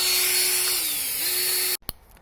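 A steady, loud power drill whine runs continuously while drilling through a garden pole, dipping briefly in pitch mid-way, then cuts off abruptly with a couple of short clicks after.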